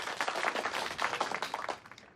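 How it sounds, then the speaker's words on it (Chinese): An audience at a reading club gathering claps briskly to welcome a guest. The applause is dense and steady, sounds moderately close, and tails off slightly by the end. "掌声欢迎刘烨！"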